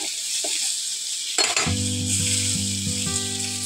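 Okra sizzling and frying in a pan for okra kasundi, a steady bright crackle with a scrape of stirring midway, followed by a sustained ringing hum from the cookware.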